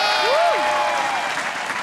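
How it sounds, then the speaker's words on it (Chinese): A studio audience at a Taiwanese TV talent show applauds after a singer's slow song, a dense, even burst of many hands clapping with a faint whistle-like tone sliding over it, and no one speaking. "掌声鼓励"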